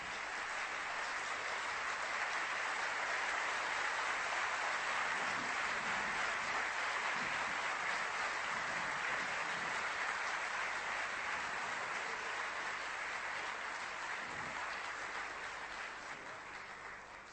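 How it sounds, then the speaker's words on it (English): An audience of chartered accountants gives a standing ovation to a Swami after a stress management talk, a broad, steady roar of clapping that holds for over fifteen seconds and tapers slightly at the end. "Have a standing ovation for the Swamiji."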